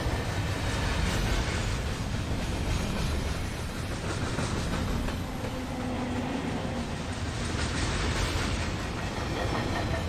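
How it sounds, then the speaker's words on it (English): A GE locomotive hauls a CSX freight train in a simulated run, a continuous low rumbling drone with rail rolling noise and faint rhythmic clatter, steady and moderately loud throughout with no talking. "The GE chugging along."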